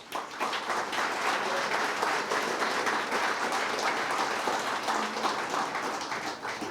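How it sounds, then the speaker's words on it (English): An audience applauds the event sponsors at the Carroll County Department of Fire & EMS awards, a sustained, even round of clapping from a large room that carries on strongly throughout without talk over it. "We give them a round of applause"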